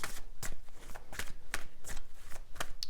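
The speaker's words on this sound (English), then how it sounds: "I'm going to shuffle a little bit here and lay out the cards" Tarot cards being shuffled by hand nearby, with a series of quick, crisp riffling bursts repeating in an uneven rhythm.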